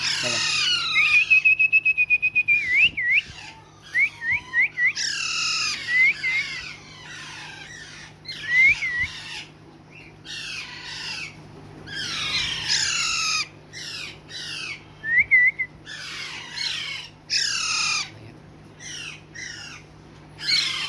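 Harsh, repeated squawks from several tame young parrots in irregular bursts, some with whistled tones, over a steady low hum.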